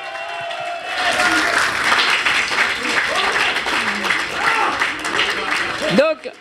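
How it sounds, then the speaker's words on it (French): At a Paris conference on fighting antisemitism, the audience gives a sustained round of clapping for the panel speakers, a loud, even roar of many hands with scattered voices mixed in, ending abruptly. "je vous demande d'applaudir les intervenants et leur courage"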